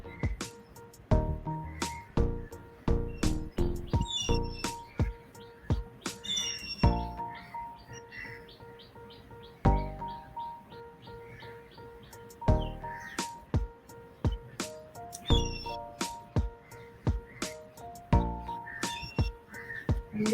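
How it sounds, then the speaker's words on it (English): Bright, clear bird calls ring out repeatedly over about twenty seconds, a varied sequence of whistled notes and short chirps at moderate distance, with faint background tones underneath. "there's a very different bird"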